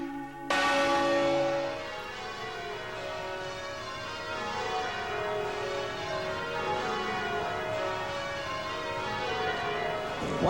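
Bells of Christchurch Cathedral ring out loudly and continuously, rich overlapping peals sounding together at a festival of flowers, bells and music, with a sustained resonant tone throughout.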